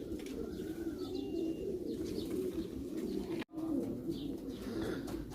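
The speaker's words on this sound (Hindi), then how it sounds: "ये जी 600 किलोमीटर करके कबूतर जो हैं घर पहुंचे हैं।" Pigeons back home after a 600 km race flight cooing softly, low steady murmuring coos with a few faint chirps, close and continuous against a quiet background.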